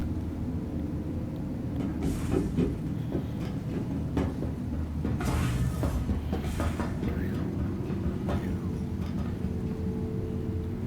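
Starfarer ship engine in the game Star Citizen, running as a steady low rumbling hum with a faint mechanical rattle and a few brief clanks layered over the drone.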